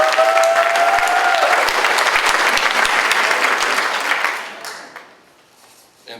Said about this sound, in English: I'm going to give him a round of applause anyway.